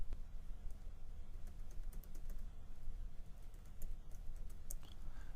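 A website address typed on a computer keyboard: steady quiet clicking of keys at an even pace, close and alone over a low background hum.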